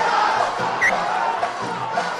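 A schools rugby crowd at Pallekele shouts and roars in a dense, loud, steady wall of voices with scattered whistles and yells.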